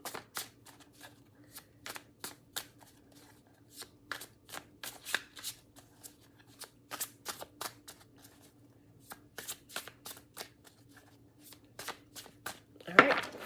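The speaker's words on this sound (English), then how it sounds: "I'm going to have to shuffle this deck the other way" A deck of tarot cards being shuffled by hand, close and quiet: a steady run of crisp riffling flaps and taps in an irregular rhythm, ending with a louder burst, with no talking over it.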